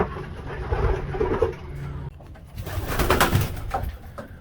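Racing pigeon cooing close by in soft, low, repeated throaty coos over a faint background rumble, with no talk.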